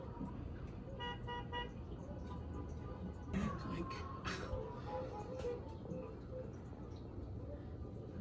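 A fire truck sounds short horn toots and honks out on a residential street during a neighbor's birthday drive-by, heard at moderate distance amid passing traffic while people talk nearby.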